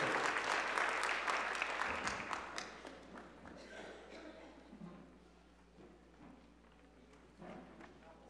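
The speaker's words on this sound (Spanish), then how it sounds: "un aplauso aquí para la compañera" Audience applause at a seminar on women's struggle for land and territory, strongest at the start and then thinning out and fading to a quieter tail.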